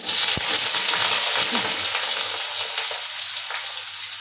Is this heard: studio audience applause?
no